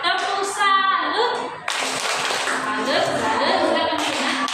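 A group in a classroom breaks into applause after a short rhythmic chant, with the clapping rising into a dense, continuous patter that carries on to the end.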